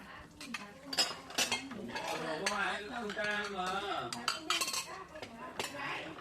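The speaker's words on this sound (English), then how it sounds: "Everyone pitches in, one washes, one rinses, one stacks" Dishes, pots and cutlery clink and clatter steadily as dishes are washed, rinsed and stacked by hand during a Vietnamese family feast, with soft talk faintly underneath.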